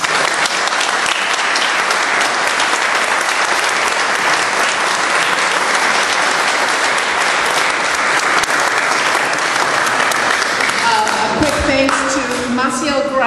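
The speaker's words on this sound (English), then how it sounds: "both of them deserve a huge round of applause for that" An audience at a political candidate forum applauds loudly and continuously, a thick roar of clapping that gives way near the end to a voice speaking.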